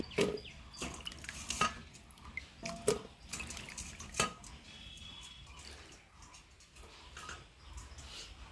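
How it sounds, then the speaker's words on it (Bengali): Water is poured into a pressure cooker to cover cut jackfruit. A faint splashing trickle comes with scattered clinks and drips at close range, and nobody speaks. "এঁচড়গুলো ডুবিয়ে জল দিয়ে দিলাম।"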